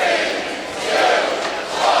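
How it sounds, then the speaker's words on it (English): A hockey arena crowd chants in unison during a penalty countdown, a broad roar of many voices that swells and dips in rhythmic waves, continuous and fairly loud throughout. "Here, maybe the crowd counting down."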